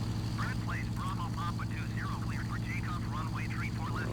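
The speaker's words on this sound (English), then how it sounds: "We'll let it taxi out." A Mitsubishi J2M3 Raiden World War II fighter taxiing at Narita International in Microsoft Flight Simulator, a steady low propeller-engine drone under continuous chirping, with no pause in the hum.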